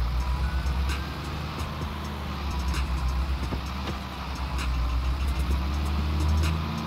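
A farm vehicle in Farming Simulator 22 drives steadily with a low, continuous engine drone and rumble, moderately loud and uninterrupted throughout.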